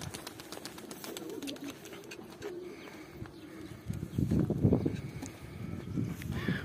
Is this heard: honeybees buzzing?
no